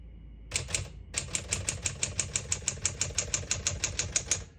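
A 1964 Smith-Corona Sterling manual portable typewriter clacks in a fast, even run of keystrokes after a brief pause, close and crisp with no talking.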